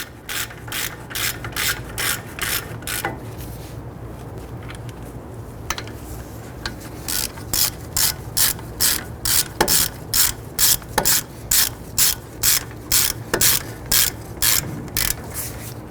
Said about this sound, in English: Let's go ahead and snug these bolts down